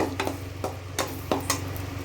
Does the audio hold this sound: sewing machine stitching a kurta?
no